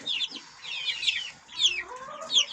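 A young rooster clucks in short, repeated chirpy bursts, close and fairly clear, with brief pauses between calls and no talking.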